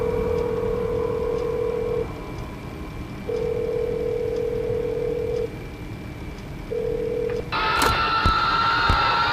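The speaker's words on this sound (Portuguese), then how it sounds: "Se você usar o telefone e discar 1996, acontece isso." Telephone keypad tones from the phone in the video game Showman's The Awakening as the number 1996 is dialed: a few steady beeps with short gaps, then a sudden louder, harsher burst of tone at the end, with no talking.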